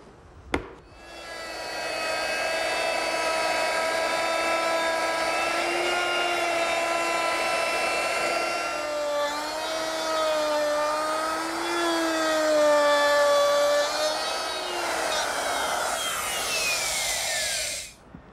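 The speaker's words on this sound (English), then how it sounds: "I'm going to start with my router at one corner and move back and forth until I get to the other corner" A router cutting out wood for a toy chest inlay gives a loud, sustained whine with a strong steady tone that rises and dips as the bit moves back and forth, starting with a sharp click and stopping abruptly near the end.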